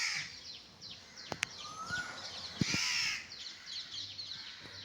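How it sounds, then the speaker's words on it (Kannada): Two crow chicks in a backyard give repeated harsh caws, one call after another at fairly close range. A few sharp knocks break in, and no one speaks. "ಇಪ್ಪತ್ನಾಲ್ಕು ಗಂಟೆ ಕಾ ಕಾ ಕಾ ಅದು ಏನು ಆ ಮರಿಗಳು ಬಾಯಿ ಮಾಡ್ತಾವೋ"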